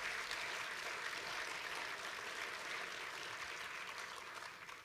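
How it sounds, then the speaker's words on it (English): A large convention audience at a regional speech applauds in a steady, dense, crowd-wide wash of clapping. It holds for the whole stretch and fades slightly at the end. "Let's give it a round of applause."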